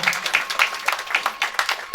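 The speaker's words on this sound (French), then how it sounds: "Est-ce qu'on peut applaudir très très fortement" Applause at the inauguration of a swimming event for the Democratic Republic of Congo swimming federation: a small group clapping in uneven bursts, fairly close and moderately loud, with no talk over it.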